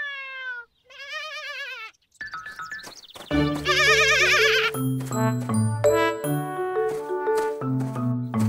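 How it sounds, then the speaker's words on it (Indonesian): Goat bleating in a cartoon, several wavering bleats at the start, then chiming jingles and bell-like musical tones fill the rest. "Kok ada suara kambing, Dit?"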